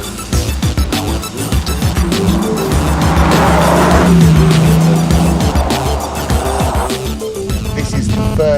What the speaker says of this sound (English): You can wheel spin this car at 35 miles an hour simply by putting your foot to the floor.